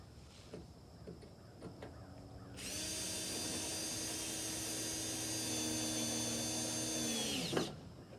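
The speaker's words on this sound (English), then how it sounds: "I'm gonna drill a new hole" A power drill whirs steadily for about five seconds, starting abruptly and winding down, after a few faint knocks and handling noises.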